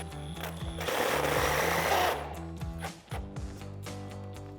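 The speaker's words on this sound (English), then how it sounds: "our T45 Torx bit to tighten this down." Power driver with a T45 Torx bit tightening a nut while fitting fender flares on a 2019-2024 RAM 2500, a steady whirring buzz for about two seconds, then quieter clicks and handling noise.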